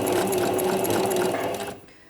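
A domestic sewing machine backstitches steadily to lock the stitches at the end of a seam on a crocheted bag, running as a continuous close whir for most of the clip before slowing and stopping near the end.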